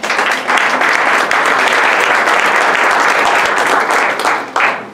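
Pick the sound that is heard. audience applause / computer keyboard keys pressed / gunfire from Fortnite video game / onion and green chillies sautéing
audience applause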